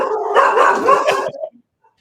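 A dog barks in a rapid run of close, loud yaps and woofs for about a second and a half, then goes quiet, with no talk over it.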